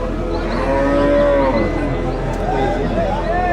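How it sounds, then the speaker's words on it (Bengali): A cow moos at a busy village cattle market in Nilphamari, with several drawn-out calls over a steady crowd murmur. "এটা একটা গরু।"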